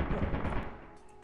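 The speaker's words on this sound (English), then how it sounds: "Shots fired! Get down! Shots fired!" Rapid gunfire in Lethal Company, a burst of close, loud automatic shots at the start that quickly tapers into fading echoes, with no talking over it.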